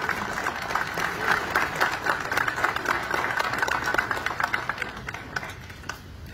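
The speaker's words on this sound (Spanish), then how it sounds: "Vamos a brindarle un fuerte y caluroso aplauso a Asís Santiago." Crowd applause for a child receiving a toy at an outdoor ceremony, dense clapping with rhythmic peaks that sustains evenly and then thins out toward the end.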